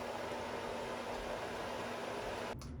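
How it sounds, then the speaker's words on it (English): A clothes dryer runs steadily in a home kitchen, a broad, even whooshing hum with a faint low tone underneath, continuous and unvaried until it cuts off abruptly near the end. "Sorry if you can hear my dryer in the background."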